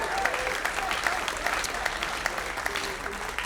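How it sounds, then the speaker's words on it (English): Steady audience applause at a stand-up comedy show, a continuous even wash of many hands clapping at a constant level for the whole span, with no one talking over it. "Big round of applause."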